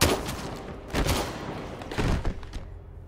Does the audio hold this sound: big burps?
no